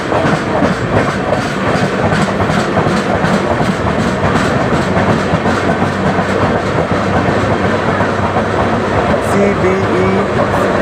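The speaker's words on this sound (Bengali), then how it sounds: "এটা হচ্ছে বারো ফাইভ জিরো এইট শিলচর থেকে আসছে" Train 12508, coming from Silchar, passes close by with a loud, continuous rumble and rhythmic clickety-clack of wheels over rail joints, heard from aboard another train.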